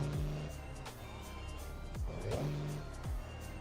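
Truck engine in American Truck Simulator rumbling and revving steadily, with low pitch sweeps that rise and fall as it runs, loud and close throughout.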